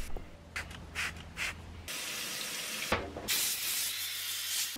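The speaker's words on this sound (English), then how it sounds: "This is a degreaser that I sprayed on and let it soak in for about 15 minutes" An aerosol can of degreaser sprays onto an engine bay part of a KE25 Corolla in several short hissing bursts, then two longer sustained blasts of spray, close and fairly loud.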